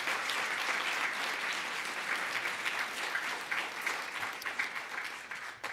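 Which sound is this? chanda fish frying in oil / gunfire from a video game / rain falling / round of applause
round of applause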